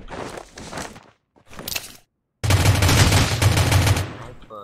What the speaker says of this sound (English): Someone is shooting me. Someone is shooting me.